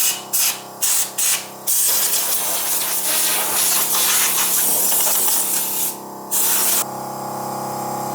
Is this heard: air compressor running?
yes